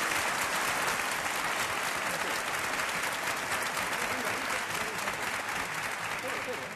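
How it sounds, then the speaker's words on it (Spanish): Studio audience at a 1980 Spanish television game show giving loud, sustained applause for the night's winners, a dense, even wall of clapping throughout with voices faintly mixed in. "ese aplauso muy fuerte para estos ganadores de esta noche"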